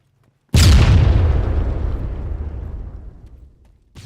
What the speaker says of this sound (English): the car gets close and then detonates